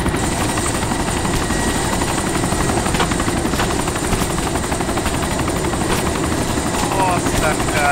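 A helicopter in the video game DayZ, its steady rotor thrum and engine drone filling the whole stretch, loud and constant, with faint gunfire-like clicks mixed in.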